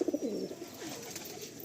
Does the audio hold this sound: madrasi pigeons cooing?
yes